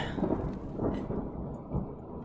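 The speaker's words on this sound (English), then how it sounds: "I don't like thunder at all" Thunder rumbles low and heavy from a storm directly overhead in Wind Waker HD, with rain under it and no talk.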